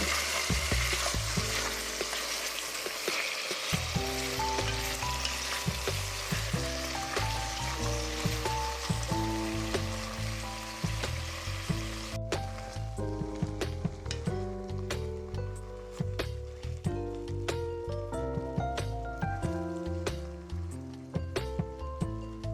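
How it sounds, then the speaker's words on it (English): Stewed beef tips brown in a hot pan with a steady, crackling sizzle and popping spatter that stays close and continuous throughout, no talking. "So now all you want to do is let your stewed meat brown."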